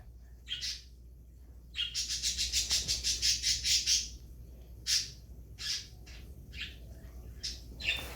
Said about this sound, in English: Birds, can you shut up?